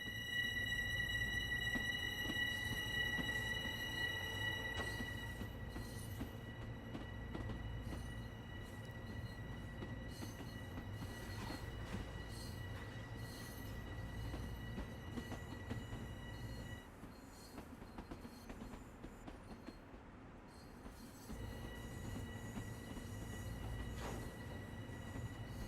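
A Talent 2 train in Train Sim World 2 rolls along the tracks with a low rumble, steady tonal whine and faint wheel squeal, dropping in level partway through and easing back up near the end.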